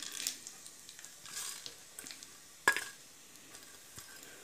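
Cumin and black pepper splutter in hot ghee while pongal is being made, a faint, sparse crackle and sizzle broken by one sharp pop near the middle.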